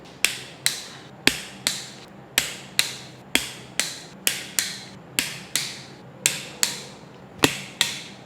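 A wrench clicks on Alto 800 cylinder head bolts as they are torqued, giving a steady run of about twenty sharp, close ratchet clicks at an even rhythm with no talk.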